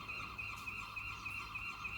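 Geese honk loudly and repeatedly during an early-morning walk, their calls coming in a steady, overlapping chorus with no talking.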